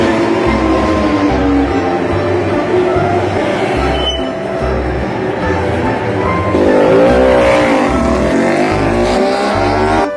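A toy racing motorbike's engine revs steadily and loudly for about ten seconds, rising into a whining surge near the end, over a repetitive pulsing music bed.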